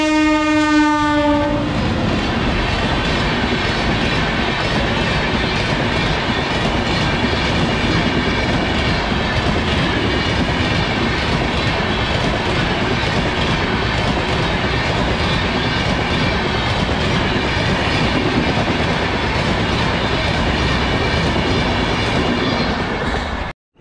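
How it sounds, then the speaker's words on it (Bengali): A train passes close by, opening with a loud blast of its horn and then a long, continuous roar and rattle of the cars rolling past, loud and steady until it cuts off abruptly. "ট্রেন পেরোচ্ছে, আপনারা দেখুন সবাই। এই যে আওয়াজ শুনতেই পাচ্ছেন,"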